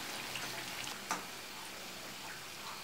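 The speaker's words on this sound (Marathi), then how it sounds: "एक एक करून आपण यात करंजा सोडूया। या करंजा तुम्हाला मंद गॅसवरच तळून घ्यायच्या आहेत।" Layered satyachi karanji pastries frying one by one in oil over a low flame, giving a faint, steady sizzle with a single small pop partway through.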